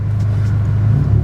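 Subaru STI engine idling or driving with a low, steady rumble heard close from inside the car, brief and without talking.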